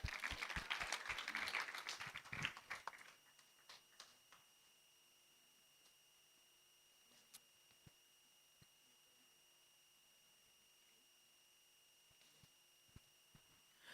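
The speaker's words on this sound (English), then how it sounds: "Let's give him a round of applause." A short burst of applause from a crowd at a breast cancer walk event in Kigali, Rwanda fades out after a few seconds, leaving a quiet room with occasional small clicks and knocks.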